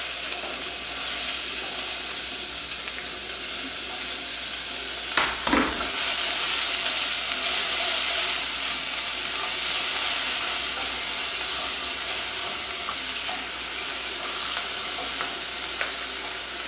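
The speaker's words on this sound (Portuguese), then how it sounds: "Agora que ele deu uma douradinha, eu vou adicionar a cebola." Onion sizzling in a hot pan for hot dogs, a steady dense frying crackle with a brief louder clatter of stirring near the middle, no voices.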